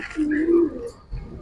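A Kaldom pigeon gives a low, close coo that rises and holds briefly, with a faint stir of other birds and a little background noise around it.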